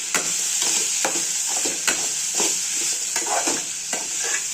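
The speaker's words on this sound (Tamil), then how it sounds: "நல்லா வதக்கிடுறோம்" Cut potatoes sauté in a pan for a dried fish curry, a constant bright sizzle broken by repeated scraping stirs of a spatula, close and fairly loud.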